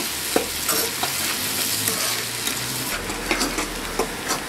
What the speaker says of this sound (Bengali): পেঁয়াজটাকে বাদামি করে ভেজে নিব।